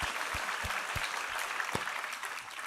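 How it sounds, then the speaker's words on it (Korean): A church congregation applauds during a worship service, a soft, continuous patter of many hands with a few sharper individual claps standing out nearby. "우리 하나님께 감사와 영광의 박수 올려드리겠습니다."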